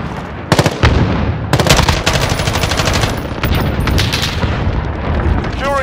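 Rapid automatic bursts from a Holger-26 (MG36) machine gun in Modern Warfare, loud and close, several rattling volleys separated by short gaps, with battlefield effects and brief radio-style chatter mixed in.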